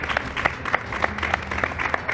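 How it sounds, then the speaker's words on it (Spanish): Studio audience applause on a Spanish TV show, a steady burst of clapping with rhythmic accents, moderately loud and continuous across the short stretch, with no voices over it. "¡Ah, venga, el aplauso!"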